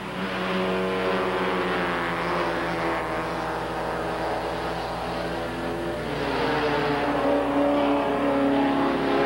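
A Porsche 944 race car in the 1986 Canadian Rothmans Porsche 944 series on its victory lap after a race, engine droning steadily and fairly close with gear-change shifts in pitch, no talk over it.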